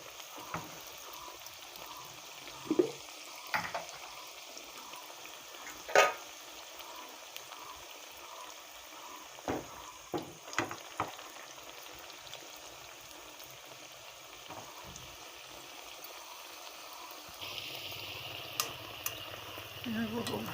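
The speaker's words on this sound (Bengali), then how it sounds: "মিডিয়াম আঁচে ভাজতে হবে।" Lachha paratha fries in a little oil on medium heat, giving a soft, steady sizzle with occasional clicks and utensil taps. Quiet talking is heard in the background.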